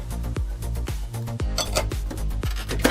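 A fork repeatedly jabs and scrapes against a plate while poking holes in a potato, several quick clinking pokes in an uneven rhythm, close up.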